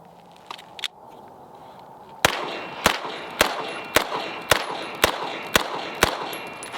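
Shots from a ported S&W M&P9 2.0 CORE Performance Center 9mm pistol, with about eight sharp, evenly spaced reports fired in a quick steady string after a couple of faint clicks, loud and close with ringing decay between shots.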